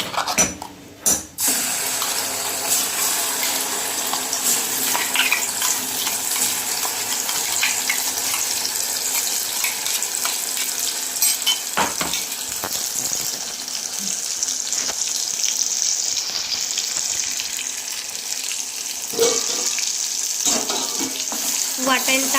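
Masala paste hitting hot oil in a pan while mutton curry is cooked, giving a loud, steady, broadband sizzle that runs continuously with a few sharper crackles and brief clatter near the start.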